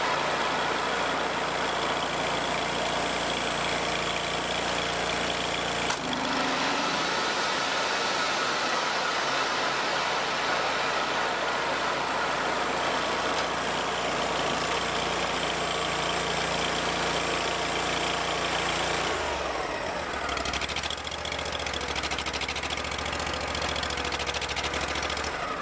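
A Steiner tractor engine runs steadily at idle, with the PTO belt turning. A constant, loud mechanical drone shifts in tone partway through and again near the end.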